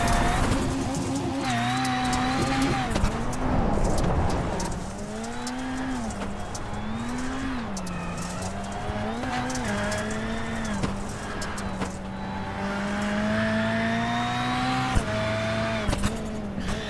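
Onboard a NASA Rallycross Lites race car, number 2, chasing a rival in Iowa: the engine drones and revs up and down through gear changes, with gravel rattling and bumps against the car throughout.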